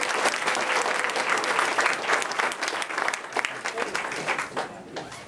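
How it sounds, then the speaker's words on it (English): An audience applauds for Jeff at the close of a real-estate talk, producing sustained clapping that swells and thins with some voices mixed in underneath. "So let's give a round of applause for Jeff for coming and sharing what he's got."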